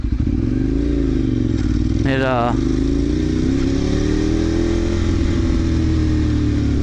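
A 2008 Ducati 848 motorcycle engine runs steadily at a loud, close idle with a deep rumble, and a brief rising rev blip comes partway through.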